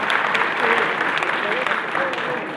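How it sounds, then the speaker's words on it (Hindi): An audience of students claps for a fellow student at a college speech event, a dense burst of applause that stays loud throughout and fades slightly at the end. "तो उसके लिए ताली बजा सकते हो आप लोग।"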